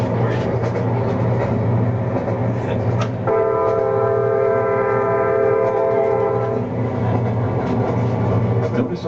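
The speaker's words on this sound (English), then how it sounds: "Your train is carrying the equivalent of 300 truckloads of freight." A Norfolk Southern freight train rumbles past on the track, loud and steady, with a sustained horn-like tone sounding for a few seconds in the middle.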